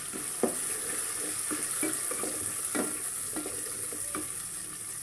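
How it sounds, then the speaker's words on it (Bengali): Onions fry in a pan until brown, with a steady close sizzle broken by recurring scraping stir strokes from a utensil. "তো পেঁয়াজটা ব্রাউন কালার হওয়া পর্যন্ত অপেক্ষা করব।"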